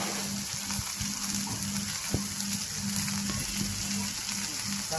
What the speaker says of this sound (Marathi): बारीक गॅसवरती व्यवस्थित परतून घ्यायचं आहे आपल्याला